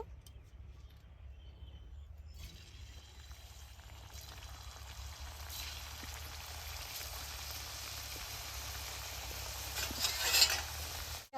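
Rice-flour nimki frying in hot oil make a steady, soft sizzle that holds evenly and swells briefly near the end, with no voices over it.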